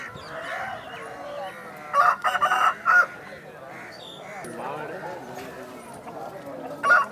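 A rooster at the Vijayawada rooster market gives a few short crows over someone talking and general market noise.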